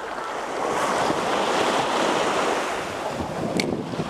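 Strong wind buffets the microphone over steady surf breaking along a shore at sunset, a continuous broadband roar with no pauses and no voices.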